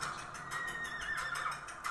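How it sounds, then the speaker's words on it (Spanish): A chestnut horse whinnies as a sound effect in a narrated story, a long wavering neigh with faint hoof clip-clop beneath it, fairly close and alone. "Y le regaló un caballo hermoso, un alazán."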